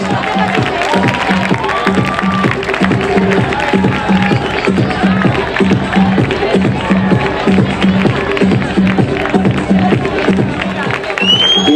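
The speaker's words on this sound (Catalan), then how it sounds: "I un aplaudiment per a la família Adams." A carnival ball crowd applauds and cheers for a costumed Addams Family group, steady loud clapping and hubbub running throughout with music beneath and voices in the mix.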